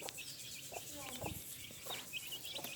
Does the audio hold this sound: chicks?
yes